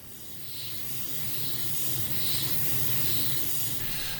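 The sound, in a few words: spraying thinned paint on a model ship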